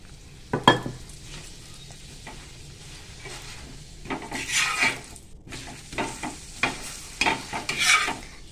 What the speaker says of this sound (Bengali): এবার একটু সামান্য তেল দিয়ে সাদা তেল দিয়ে দিলাম